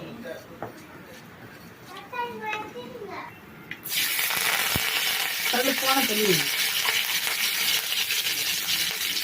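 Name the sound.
mustard seeds and cumin crackling in hot oil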